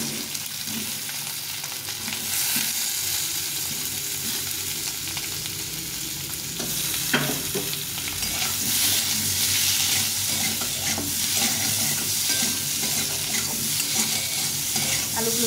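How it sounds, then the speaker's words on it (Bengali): Potatoes fry in oil after eggs were fried in the same oil, with a steady crackling sizzle at close range and intermittent stirring scrapes and clinks. "এই তেলে একটু আলুগুলো ভেজে নেব।"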